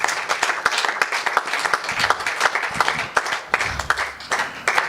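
Church congregation applauding during a French-language worship service, dense rapid handclaps from many people, close and lively, with bursts of cheering and voices mixed in.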